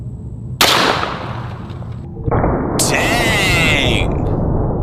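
A 500 Magnum with a 20-inch barrel fires a 700-grain Underwood hard cast round in one loud, close blast, followed by a second sharp report and a lingering ringing tail.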